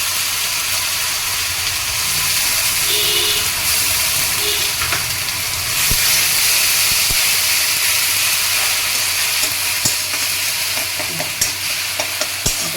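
Onion and tomato paste fries in a pan, giving a steady, close, continuous sizzle and hiss with occasional light stirring scrapes throughout, no voices.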